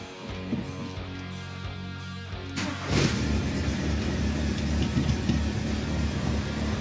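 A cold Volkswagen Golf 3 cabriolet engine, which has an idle fault, turns over with a sudden loud catch and settles into a steady, rumbling idle close by.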